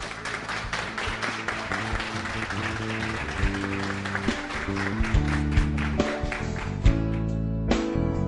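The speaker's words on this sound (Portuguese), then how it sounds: "eu gostaria que vocês recebessem com uma salva de palmas" An audience at a youth dialogue event claps steadily, with dense sustained applause and music playing underneath.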